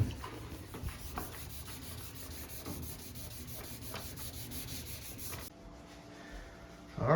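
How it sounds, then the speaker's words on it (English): Rhythmic rubbing strokes of sanding down filler over rock chips on a Chevy Silverado hood, steady and close for several seconds before stopping, followed by a brief clatter. "now we're sanding it down"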